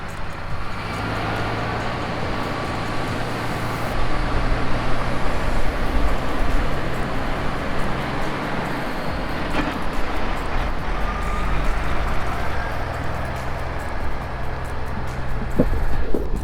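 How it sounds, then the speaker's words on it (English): Log truck running at a logging site, a steady loud low engine rumble with broad road-like noise that swells after a few seconds and holds, close by and alone without talk. "Listen, let's listen to that truck."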